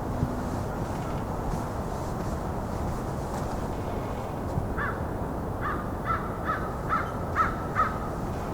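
Several crows caw in a loose series of short, separate calls at moderate distance during a winter bird count, heard over steady outdoor background noise.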